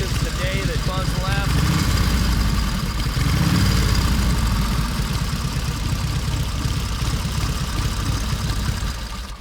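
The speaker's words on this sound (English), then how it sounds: "As you can hear, it's running as good as the day that Buzz left." A vintage motorcycle engine, a rare early Harley competitor capable of 100 mph, runs steadily at a loud close idle with a continuous low throbbing rumble throughout.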